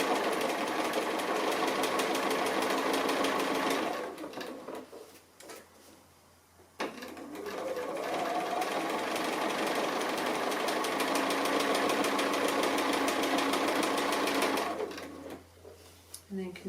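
Domestic sewing machine stitching applique on a fabric playroom book, a steady fast motor whirr running most of the time with a brief pause midway, while a person talks over it.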